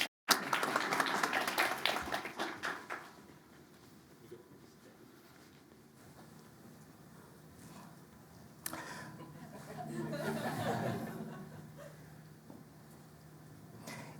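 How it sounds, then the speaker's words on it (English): An audience at an economics panel event on global growth claps for a few seconds at the start, then the applause fades into low room noise with a brief rise of murmuring later. "Round of applause, everybody."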